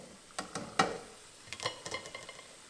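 Canned four-bean mix tipped into a pan, a quick series of soft wet clatters and taps as the beans drop in, close but quiet, with a light sizzle underneath and no talk.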